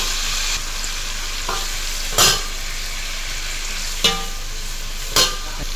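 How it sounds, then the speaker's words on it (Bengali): Onions fry in a pan with a steady, loud sizzling hiss, broken by a few sharp scrapes and clacks of a spatula as they are stirred. "দেখেন পেঁয়াজ দিলাম, নাড়া দিলাম।"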